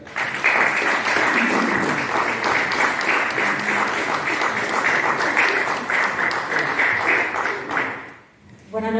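An audience at a book presentation and theatre evening applauds warmly, sustained even clapping that carries on for several seconds and then quickly dies away.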